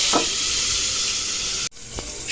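Chicken fries in a pan of hot oil, a loud continuous hissing sizzle with brief clinks of utensil contact, cut by a short break before the frying resumes.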